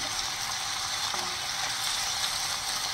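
Finely chopped tomato and onion sauté in a pan, a steady moderate sizzling hiss throughout with a brief faint scrape and no talking.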